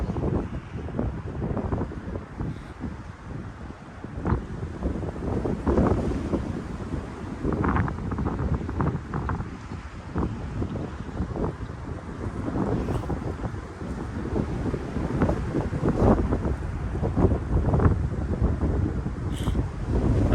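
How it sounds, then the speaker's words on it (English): Strong gusty wind buffets the microphone during a DJI Mavic 3 drone flight, a loud continuous rumbling roar that swells and eases throughout with no talking. "I got a strong wind warning again."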